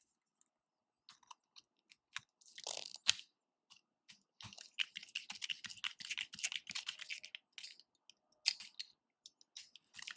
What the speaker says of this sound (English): I'm just going to hand tighten them up